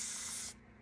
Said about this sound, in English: I'm just going to put a couple of squirts of distilled water in here.